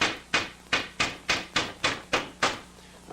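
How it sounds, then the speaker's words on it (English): A small, light hammer drives nails into the wooden frame of a kid-built kayak, giving nine sharp, evenly spaced taps at a steady rhythm, close and clear with no talk. "And Rachel, I'm going to nail the one closest to you."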